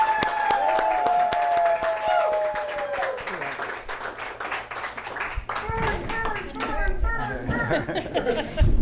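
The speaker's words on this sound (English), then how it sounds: "Give her a nice round of applause" An audience claps for Christina Peebles of Burn Boot Camp at a pavilion mall event. Brisk, close applause comes in bursts over a steady hum, with voices and a brief tone mixed in.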